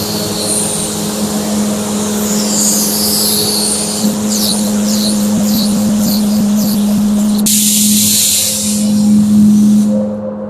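Spray gun laying a second coat of paint on a warm day, a steady hissing airflow running nearly continuously, with a motor-like hum beneath and a brief change partway through before the spray stops near the end.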